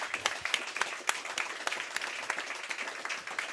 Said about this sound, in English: So can we get a round of applause for beating last year's total?